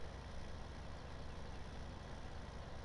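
A grain truck's engine idles in a Farming Simulator 17 game, a faint, steady low rumble with no talk over it.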